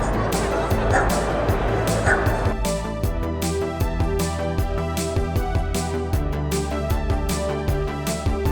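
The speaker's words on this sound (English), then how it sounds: "Look, they have little Jeepy dogs." Small dogs bark in quick, repeated yips and woofs at the Autorama hot rod car show in Detroit, loud and close over a murmur of crowd chatter.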